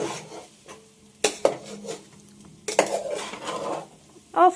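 A karahi being stirred in a home kitchen, with sharp metal clanks and scrapes of utensil against pan at irregular moments, fairly close, separated by quieter stretches of soft rubbing.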